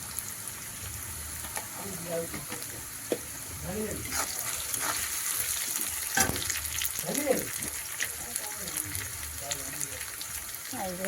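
Onions frying in oil with salt and turmeric give a constant sizzle and occasional stirring, with a voice speaking over them.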